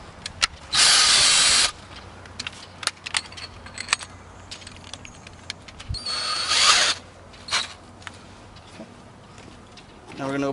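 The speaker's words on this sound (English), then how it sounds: "set everything aside once more and get ready to drill." A power drill bores into a car trunk lid while fitting a license plate flipper, with two loud bursts of whining drilling separated by quieter handling noises and scattered clicks.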